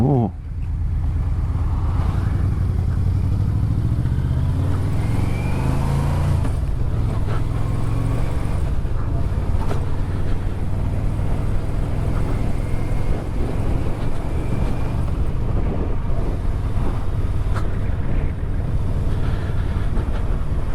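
Yamaha Vmax motorcycle riding on a road, a loud steady engine drone with rumbling low tones and heavy wind buffeting across the microphone throughout, no one talking.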